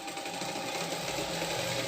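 Sewing machine running steadily while stitching a katori-style blouse, a continuous even whir with no pauses across the short stretch.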